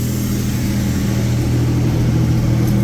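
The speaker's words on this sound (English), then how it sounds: "It's idling down a little bit, down to about 1500 now" Toyota T100 pickup engine idles steadily up close, a continuous mid-pitched hum settling toward about 1500 rpm after the cruise cable was adjusted, with no other sounds over it.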